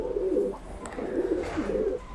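Several male pigeons coo near each other in Ankara heat, low throaty rolling calls repeating in a steady rhythm, close and fairly loud with no talking.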